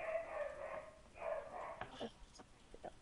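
A dog barking indoors in a room, a few short barks in quick succession, moderately close and fairly quiet, with no talk over it.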